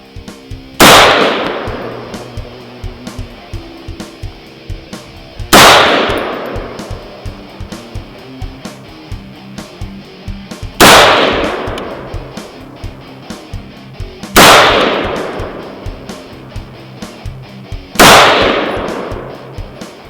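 Five loud, sharp rifle shots from a 25-45 Sharps firing 87-grain hollow point hand loads, each several seconds apart with a short ringing tail, and small mechanical clicks and taps from the action between shots.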